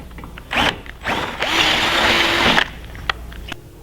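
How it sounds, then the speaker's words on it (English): A power drill with a 9/32 bit whines steadily for about a second as it bores the threads out of a factory hole in metal, with short bursts of motor noise before and after. "I have to take a 9/32 drill bit and drill the threads out of this factory hole"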